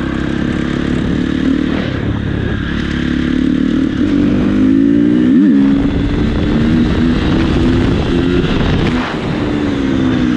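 A motorcycle engine hums steadily and rises in pitch as it speeds up through a series of turns, with a sharp rev near the middle, loud and close throughout.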